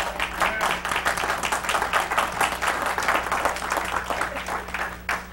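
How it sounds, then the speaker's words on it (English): A church congregation applauds steadily at close range, dense clapping filling a few seconds before tapering off. "Okay, why are you clapping?"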